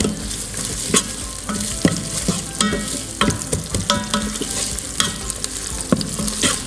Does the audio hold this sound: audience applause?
no